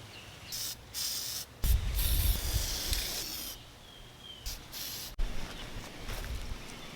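Paint stripper is sprayed onto car wheels outdoors in sustained hissing bursts from an aerosol, several spurts with short pauses between, close and moderately loud.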